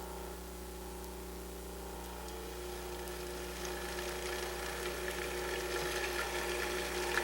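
A Cuisinart DLC-7 or DLC-8 series food processor runs with a steady motor hum as oil, vinegar and other dressing ingredients are poured through the feed tube, building into a faint, even liquid whir.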